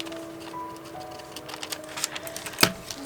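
Scissors cut away fabric on a junk journal overlay made for an Amazon envelope, with soft close snipping ticks building to one sharp clipped snap near the end, over a low steady hum.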